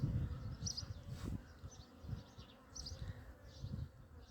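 Honeybees, scouts rather than a swarm, buzz around a nest site beneath a house, several insects droning in and out, some passing close, others fainter, with no voices.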